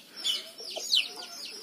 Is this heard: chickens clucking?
yes